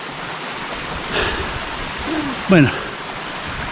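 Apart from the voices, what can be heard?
Las Tinajas del Consuelo waterfall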